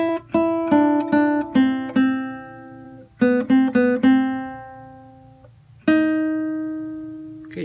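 A solo guitar picks a melody phrase from a song, clear single plucked notes in two short groups followed by a final sustained note ringing out, close and alone with no voices.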